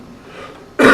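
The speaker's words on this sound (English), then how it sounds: "here comes my cough again" A single sharp cough from an older speaker in a quiet room, sudden and close, bursting out at the very end after near silence.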